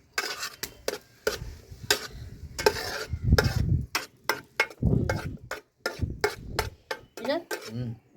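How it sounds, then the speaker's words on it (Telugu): Spice ingredients stirred together in a cooking pot for a village-style pounded chutney, repeated clattering scrapes and knocks of a spoon against the metal pot in an uneven rhythm, close by, with a voice talking between the strokes. "ఇవన్నీ వేసి ఇట్లా కలుపుకుందామండి."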